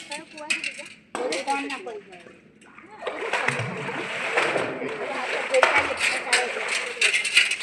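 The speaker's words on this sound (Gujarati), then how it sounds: "એ લોકોને પાણી કાઢવા આપો" A bucket draws water from a well on the Songadh Fort trek in Gujarat, with repeated sloshing and splashing nearby under the chatter of adults and children.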